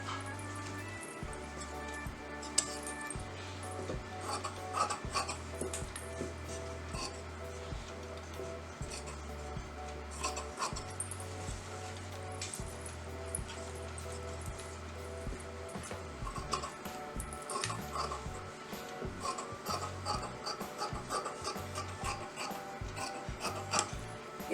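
Scissors cut along the outer edge of fabric for a half collar neckline, leaving a generous margin, with a steady rasping, rubbing texture of repeated snips close to the microphone and no voices.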